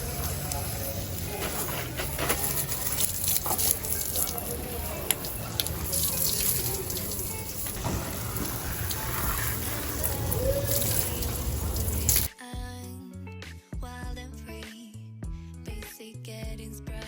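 Running tap water splashes steadily as a container is washed at a home sink, close and continuous, with someone talking over it before it gives way to music.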